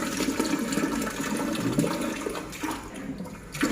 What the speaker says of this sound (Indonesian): terlalu kencang airnya